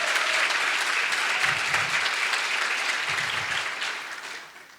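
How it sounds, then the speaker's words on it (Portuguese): Audience applause fills a Brazilian teachers' event honouring Global Teacher Prize educators, a steady dense clapping that holds for several seconds before tapering off near the end. "eu queria começar com palmas para vocês"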